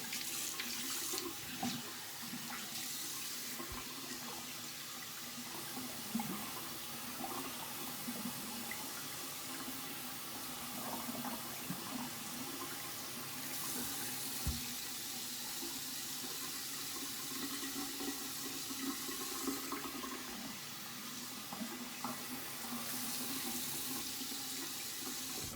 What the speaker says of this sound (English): We're gonna take a quick rinse